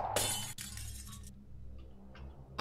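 Window glass shatters in the horror video game Ben The Exorcist, a sharp bright crash followed by a brief scatter of falling shards, then quiet with faint tinkles.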